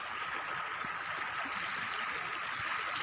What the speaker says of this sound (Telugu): నీళ్ళు పారుతూనే ఉన్నాయి